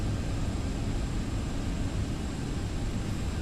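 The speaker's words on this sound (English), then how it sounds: "Says just your CF6 is idling." A Boeing 767's CF6 engine idles in the X-Plane 12 flight simulator, a steady, even broadband roar and hum held at constant loudness throughout.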